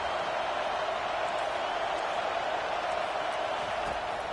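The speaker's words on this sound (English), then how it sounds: "Listen to this crowd just shaking the girders of this place trying to help their defense." Stadium crowd roaring to back the defense during a Michigan Wolverines vs Miami (OH) RedHawks game in College Football 25, a dense, continuous wall of cheering noise at constant loudness.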